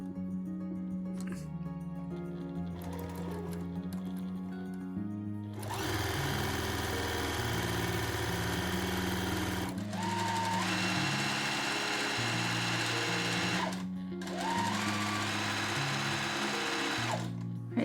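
Sewing machine stitching a second decorative row 5 mm from the first along the hem of a dress, running in a few sustained bursts of steady motor hum and needle chatter, with brief pauses between passes.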